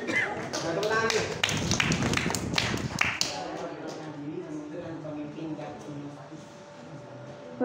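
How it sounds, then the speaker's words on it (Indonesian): Audience members at a student organization training session clap hands in a brief burst of scattered claps for about three seconds, then the room quiets into soft background murmur. "Tepuk tangan yuk."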